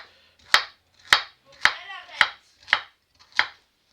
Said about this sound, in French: Donc on va faire des petites rondelles.